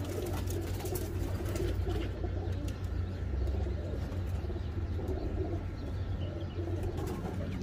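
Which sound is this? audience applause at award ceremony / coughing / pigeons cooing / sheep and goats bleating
pigeons cooing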